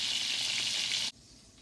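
Steak sizzling loudly and steadily in a frying pan, cooked as venison in Red Dead Online, with a bright, continuous crackle that cuts off abruptly to near quiet.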